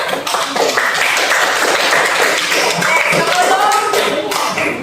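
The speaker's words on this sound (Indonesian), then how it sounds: "Tepuk tangan untuk kita semua" A small group claps together in a school computer lab, a steady burst of applause lasting several seconds, loud and close.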